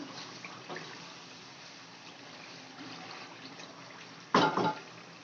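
Chicken pieces fry in a pan for Sindhi biryani, a steady low sizzle and hiss that carries on quietly, then a louder burst of crackling and scraping near the end.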